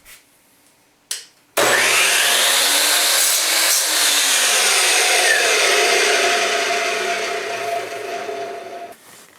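A power saw spins up with a sharp start and cuts through wood in one long, loud, continuous whine that slowly winds down at the end.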